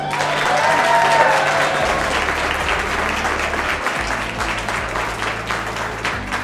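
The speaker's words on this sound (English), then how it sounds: "Give her a round of applause." Steady applause from an audience at a construction industry chapter event, dense clapping filling the room continuously and fairly loudly from start to finish, with a low hum underneath.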